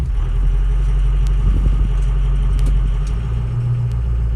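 A 6.0 diesel truck engine idling just after a cold start, a loud, steady low rumble with a constant clatter and no voices.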